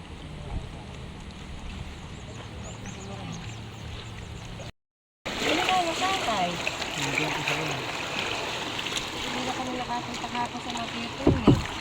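A small boat moves on the water in rain, giving a steady wash of water and motion noise. Voices talk now and then close by, and there is a brief dropout partway through.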